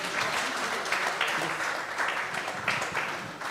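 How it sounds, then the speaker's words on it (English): Audience applause at a scientific health-systems roundtable during an unveiling, a moderate burst of many hands clapping that rises and falls gently, heard alone without speech. "Let's clap, thank you."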